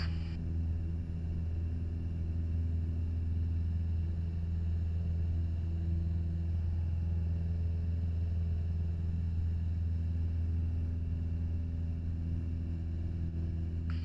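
A small airplane engine runs at full throttle for a touch-and-go takeoff, a constant deep droning rumble with steady propeller hum that holds evenly throughout from inside the cabin, with no voices.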